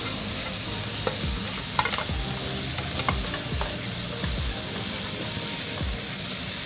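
Loud, steady sizzling of ham frying in a hot pan for carbonara, with occasional scrapes and clinks of a utensil stirring.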